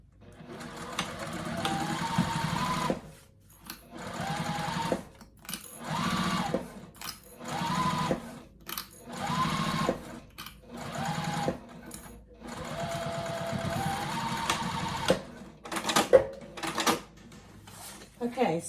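A sewing machine stitches a zipper onto a bag lining at a 2.5 stitch length, whirring in repeated bursts of a few seconds each, separated by short pauses, close and clear with no talking.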